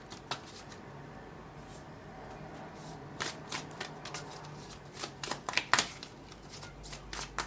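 Moonology Oracle cards are shuffled by hand with soft, rapid riffling and flicking that grows busier toward the end, close and quiet, with no talking.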